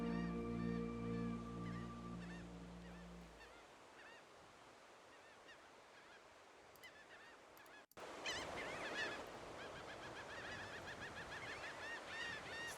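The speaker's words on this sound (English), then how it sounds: "Laughing gull call. There we go, from the Cornell Lab of Ornithology." Laughing gulls from a Cornell Lab of Ornithology recording, a chorus of harsh, repeated nasal calls over steady surf, first somewhat distant, then louder and denser after a brief cut, with no talking.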